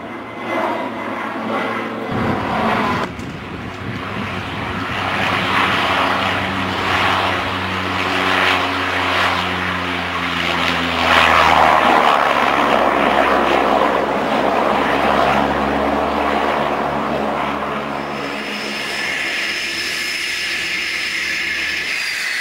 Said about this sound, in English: This aircraft is a Cessna Caravan turboprop that cruises